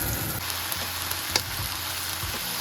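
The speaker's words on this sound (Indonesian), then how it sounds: "Tumis pakcoy." Bok choy stir-frying in a hot pan gives a steady, close crackling sizzle like light rain on a surface, with a few louder pops and no talking.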